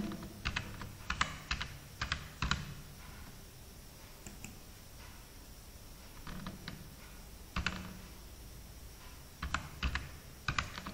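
Someone types on a computer keyboard while entering Excel formulas, with quiet bursts of key clicks separated by pauses, close and fairly soft, with no talking.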